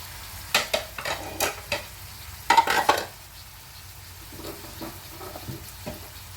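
Red amaranth stems stirred in a pan with a utensil, scraping strokes in a loose rhythm, one louder cluster midway, over a faint sizzle.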